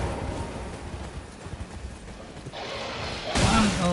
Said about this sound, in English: Okay, I'll get on the horse then.